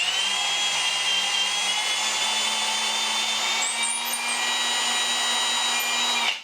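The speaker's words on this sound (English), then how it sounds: "put the drill in reverse," A steady whirring power drill motor runs in reverse continuously at constant speed, winding out a snapped screw from wood held in a vise, close and fairly loud, then cuts off at the end.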